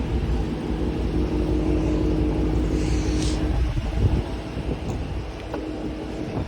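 A Dodge Charger ScatPack drives along with a steady low engine rumble and road noise, loud and close throughout, with a brief swell of higher tire or wind hiss midway.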